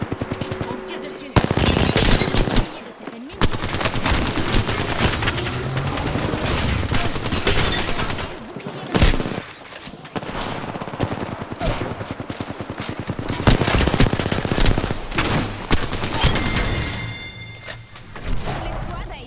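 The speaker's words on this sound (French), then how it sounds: "On tire dessus." Dense, loud automatic gunfire and repeated shots from the video game Apex Legends rattle almost continuously in close bursts, with brief pauses and occasional thumps.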